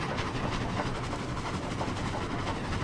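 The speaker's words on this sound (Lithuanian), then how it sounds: "Traukinys negali greičiau važiuoti, tik va tokiu greičiu." Train running on rails in the Roblox game Dead Rails, a steady close rumbling roll with faint rhythmic clatter, heard alone without talk.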